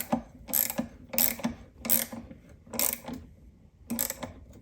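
A pressure washer surface cleaner tip is tightened by hand with a ratchet, giving rapid rhythmic clicking bursts about every 0.6 seconds, close and crisp, with no talk.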